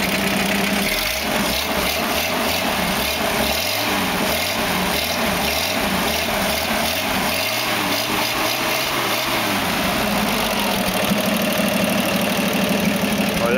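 A Toyota Land Cruiser FJ40 engine with no exhaust muffler idles loudly and roughly with a lumpy, uneven chugging rhythm, then settles into a steadier drone near the end.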